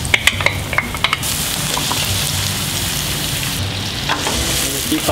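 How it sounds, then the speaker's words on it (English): Garlic sizzles steadily in a hot pan while being sautéed for Filipino pineapple chicken (pininyahang manok), with a few sharp utensil clicks against the pan early on and a continuous frying hiss throughout. "Keep sauteing, sauteing."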